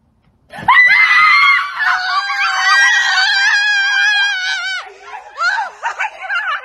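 A woman gives a long, loud, high-pitched scream of excitement, held for several seconds close to the microphone, then breaks into short bursts of laughter and squeals.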